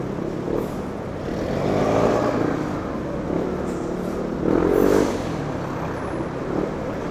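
Heavy congested road traffic near the North Expressway approach, with a steady rumble of idling and creeping cars and trucks, a couple of louder passing vehicle swells, moderately loud and continuous throughout.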